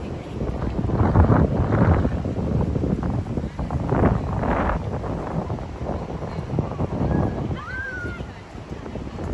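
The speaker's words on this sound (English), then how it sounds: "Love when it's windy, cools you down, says the Swan." Gusty wind buffets a microphone on an evening street around Hudson Yards in Manhattan, a steady low rumble with swelling gusts, while a voice talks over it.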